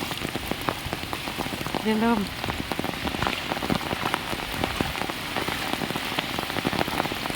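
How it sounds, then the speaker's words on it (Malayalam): Heavy rain pours down on a flooded road, a dense, loud, continuous patter close by, with a brief spoken remark partway through. "ഭയങ്കര അതിഭീകരമായ മഴയാണ്"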